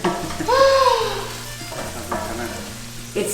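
Peppers frying in a pan for a Southern Italian dish give a soft, steady sizzle, with a brief clatter and stirring sounds over it.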